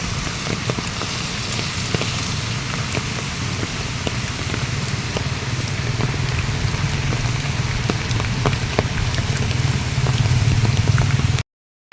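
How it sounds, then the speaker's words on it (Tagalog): Wind-driven rain from Typhoon Enteng in Vigan, Ilocos Sur, pours in a loud, unbroken roar with a rushing low rumble that swells toward the end, with no voices. "Lumalakas na ang hangin at ulan."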